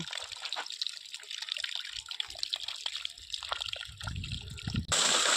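Water flowing from a tank into a channel on farmland, a faint, close trickle and gurgle with small splashes, ending in a brief louder gush.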